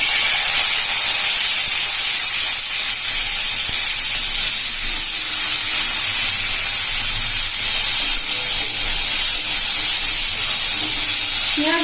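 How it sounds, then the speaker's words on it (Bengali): Chopped onions frying in white oil over spiced tempering give a loud, steady sizzle that hisses without a break from start to finish, with no voices. "পেঁয়াজগুলো কিছুক্ষণ ভেজে নেব।"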